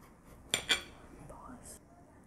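A knife cuts a choco flan cake with two sharp metallic clinks against a plate or pan, followed by quieter soft scraping, all close and fairly faint.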